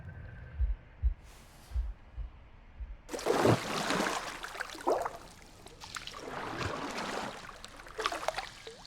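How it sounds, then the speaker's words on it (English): Heavy, deep heartbeat thuds pulse in a slow rhythm within the video game The Last Campfire, then give way to a loud gurgling rush of water that swells and churns through the rest of the scene. "The gurgling of water, a deafening heartbeat."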